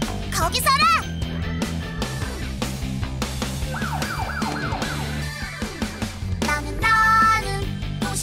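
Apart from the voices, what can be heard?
police car siren in Rescue Tayo kids song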